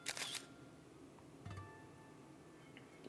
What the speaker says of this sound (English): There's just the drone's shutter sound.